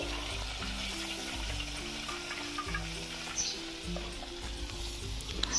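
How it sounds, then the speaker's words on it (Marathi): Fresh tilapia caught from a reservoir frying in very hot oil, giving a steady, close, crackling sizzle that runs unbroken with no talking. "आता त्याच्यामध्ये आता मी मच्छी टाकणार आहे हे बघा असं सणसणीत तेल पाहिजे आपल्याला गरम तर आपली मच्छी आता फ्राय होत आहे"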